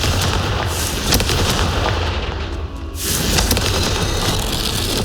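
A Confringo fire spell explodes in the Hogwarts Legacy video game, giving a loud, dense burst of booming blasts that fills the clip, briefly dipping midway before resuming.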